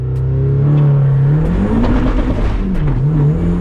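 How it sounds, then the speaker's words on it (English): A loud Mazda Miata engine revs hard under a drag launch with wheel hop, its pitch rising and falling with rough, choppy shudder; no distinct clank stands out from the roar. "you could hear not only wheel hop, but a metallic clank as well"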